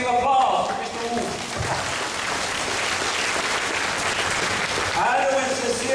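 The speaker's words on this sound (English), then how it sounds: "Let's give applause to Mr. Wu." Warm audience applause at an indoor talk in Singapore, a full dense wash of clapping that holds steady, with brief voices or music audible at the start and end.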